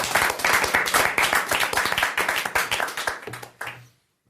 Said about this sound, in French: Bon, là, on peut vous applaudir tous.